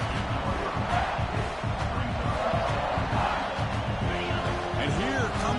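A large football stadium crowd roars steadily as the home defense faces a red zone stand, a loud continuous wash of massed voices under a commentator talking throughout.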